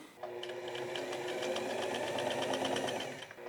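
A sewing machine stitching a raincoat runs in one steady, rapid mechanical run of needle ticks for about three seconds, close and fairly loud, starting and stopping abruptly.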